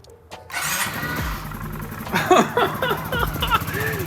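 A car engine that sat unused for five months cranks briefly and catches, then settles into a steady rough idle close by, with someone speaking over it.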